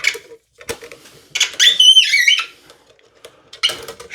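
Sharp, high squeaks from a Type 81 rifle being cleaned, a warbling burst in the middle framed by scattered clicks and scrapes, close and fairly loud with no talking.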